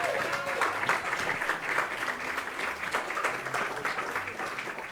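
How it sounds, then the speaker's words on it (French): An audience applauds sponsors at a gathering, a dense, sustained wash of clapping from a crowd, moderately loud, with a few voices mixed in. "on les applaudit."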